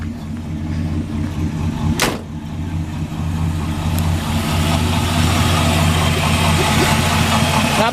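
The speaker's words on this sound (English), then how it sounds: "That motor sounds pretty good." A 1955 Chevrolet Bel Air hardtop with dual exhaust idles steadily nearby, a loud, even low rumble that holds for the whole stretch, broken by one sharp knock early on.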